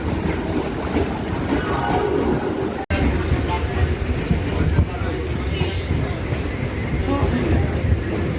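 A Gede local train rolls into Bagula station, with a steady loud rumble of wheels and carriage noise heard from on board and a voice speaking over it.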